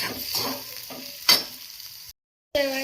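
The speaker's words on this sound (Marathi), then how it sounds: "कांदा छान भाजून" Onion frying in ghee gives a soft sizzle with a few stirring scrapes and one sharp clatter, close by, followed by a brief silence and a renewed burst of frying.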